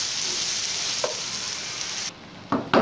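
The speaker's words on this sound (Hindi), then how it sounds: "अब इसको हम दो मिनट फ्राई कर लेंगे अपनी प्याज को।" Finely chopped onion frying in a pan with cardamom and cloves, a close, steady sizzle that briefly drops and then flares up again near the end as it is stirred, no talking.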